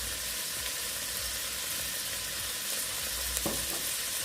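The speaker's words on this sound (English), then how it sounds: "the butter is really warm now. Scallion, onion and garlic to the pot." Scallion, onion and garlic sizzling in warm butter in a pot, a steady close frying hiss with a faint stir or clink partway through, and no talk.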